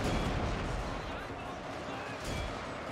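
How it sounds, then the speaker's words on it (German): Cannon fire in the video game Total War: Shogun 2: Fall of the Samurai, heavy booming reports over dense battle noise, with a couple of stronger thumps across a few seconds. "Ah, das sind die Geschütze, okay."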